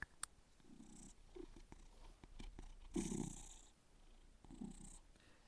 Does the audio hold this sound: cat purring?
yes